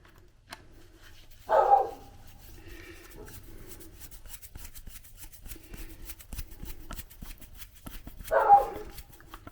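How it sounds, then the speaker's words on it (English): Two puppy barks several seconds apart, moderately distant, over a quiet background with faint rustling. "You can hear the puppy dogs in the background barking,"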